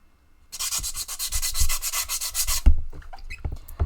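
Sandpaper is rubbed briskly back and forth over a Petoskey stone fossil, making close, rhythmic scratchy strokes for about two seconds before giving way to a few softer scrapes and knocks.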